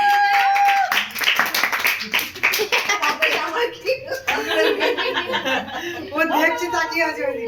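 Hand clapping at a child's first birthday celebration at home, rapid claps running under lively adult talk and chuckling, with bursts of sing-song voices near the end.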